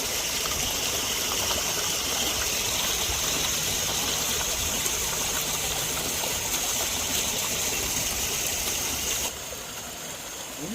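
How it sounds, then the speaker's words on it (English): Koi jumping and splashing in a pond at feeding time, heard as a steady broadband rush of churning water with dense splashes, close and loud, easing slightly near the end. "They're jumping out the water. They're splashing it."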